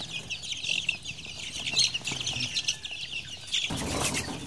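Chickens on a farm cluck and rustle nearby, with a rooster among the flock and occasional wing flaps, a busy, fairly quiet mix of bird sounds and no talk.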